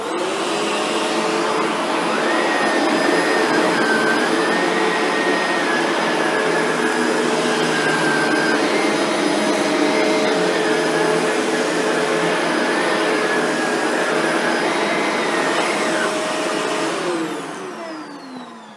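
A Shark Rotator NV752 vacuum set to low pile carpet picks up dog hair with a loud, steady motor whine and a whooshing drone. It runs close and continuously with a slight shift in pitch, then winds down at the end.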